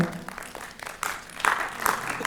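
Theatre audience applauding the performers after a stage play, a dense patter of hand claps rising in bursts toward the end, fairly close and moderately loud with no talk over it.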